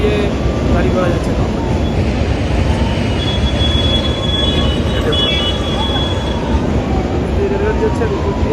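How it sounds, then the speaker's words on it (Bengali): A train passing beneath a road bridge, a loud continuous rumble of rolling wheels with faint squeals and clacks, heard close by while people talk over it. "নিচ দিয়ে রেলগাড়ি যাচ্ছে"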